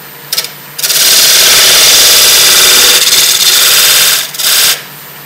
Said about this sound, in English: One more time with my parting tool.